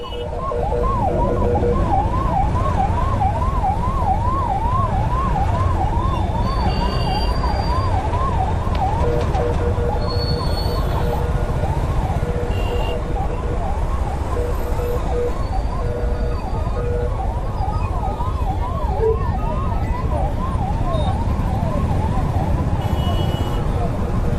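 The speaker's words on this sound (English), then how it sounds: "If you hear this siren" An ambulance siren wails in a rapid, continuous up-and-down yelp over the steady rumble of heavy traffic in Delhi, India, fairly close and loud throughout.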